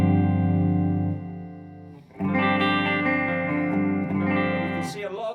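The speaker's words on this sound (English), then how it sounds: "I've got a setting here which has got a bit of delay and then a bit of modulation" Electric guitar through a Marshall or Friedman amp with delay and modulation effects, playing sustained chords that ring with shimmering repeats, a brief dip near the middle before a fuller strum, loud and alone.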